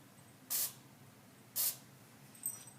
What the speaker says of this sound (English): I'm just going to spray this on